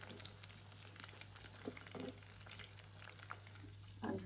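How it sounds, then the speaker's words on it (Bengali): Sausages fry in a pan with a faint, steady crackling sizzle and occasional soft bursts as they are turned, heard quietly and close with no talking. "এখন যে আমি সসেসগুলো ভেজে নিচ্ছি"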